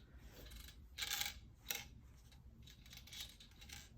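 A loose washer rattles at the back of a MoTeC C1212 digital dash unit, making faint, scattered metallic clicks and ticks in a quiet room.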